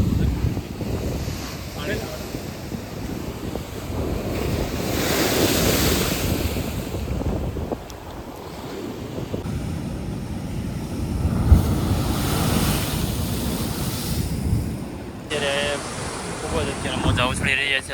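High ocean waves crash and surge onto Unchakotda beach in a steady, loud roar with strong wind buffeting the microphone, rising in swells throughout.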